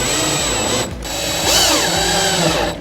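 A power drill drives screws to fit L brackets on a pantry cabinet, whirring in two close bursts with a brief pause between and the motor pitch rising and falling.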